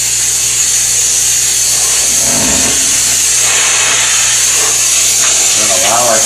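Steam cleaner jetting steam onto a unit with acrylic finishes, a steady loud hiss throughout, with brief scrubbing and handling noises and some speech mixed in.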